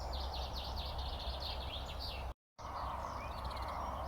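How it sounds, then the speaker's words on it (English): A blackcap sings within a dawn chorus, its quick bright warbles and chirps carrying faintly from the background over a steady low hum, with a brief dropout midway. "I can just hear a blackcap in the background."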